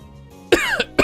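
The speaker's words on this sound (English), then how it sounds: "I actually coughed for real there." A person coughs twice in quick succession right at the mic, sharp and loud bursts, the second slightly spaced from a small catch in the throat between them.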